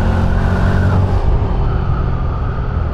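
A Yamaha PG-1 motorcycle accelerates to overtake at about 30 km/h in city riding, its engine rumbling loud and close with rising revs before easing into a steadier drone.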